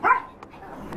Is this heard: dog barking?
yes